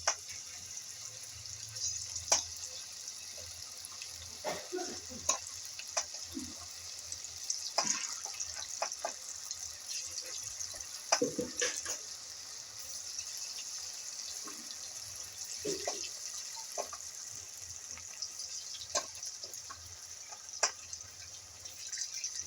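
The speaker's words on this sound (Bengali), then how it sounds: "এইবার আমি ফুলকপিগুলো একটা একটা করে ভেজে নেব।" Battered cauliflower pakoras fry in hot oil, giving a soft, continuous sizzling hiss scattered with quiet crackles and pops, heard close and alone.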